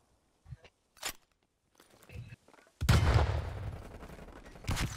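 Gunfire in a first-person shooter match: scattered faint shots and footsteps, then a loud burst of rapid firing that tails into a sustained rattle with one more burst near the end.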